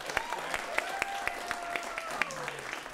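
Steady clapping from a late-night show audience for a musical guest, a dense patter of many hands filling the room, with faint tonal sounds running underneath.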